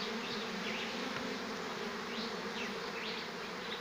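A swarm of honey bees moving into a bucket swarm trap drones in a dense, continuous buzz. Individual bees whine past the trap close up.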